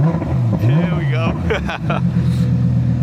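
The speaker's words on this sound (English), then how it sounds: "Porsche GT3. Jason in the car already, revving up the car." A Porsche GT3 engine, still a little cold, revs in a couple of rising and falling bursts, close and loud, with people talking over it.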